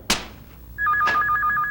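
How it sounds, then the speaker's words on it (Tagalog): A telephone bell starts ringing after a sharp thunk, its steady electronic warble sounding close and continuous through the second half. "Nagriring ang telepono, bakit hindi sinasagot?"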